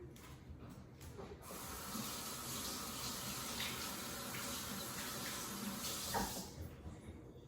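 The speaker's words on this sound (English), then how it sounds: "wash my hands real quick." Hands are washed under a running kitchen tap, a steady soft hiss of flowing water with faint splashing and a brief louder burst near the end, quiet and with no talk.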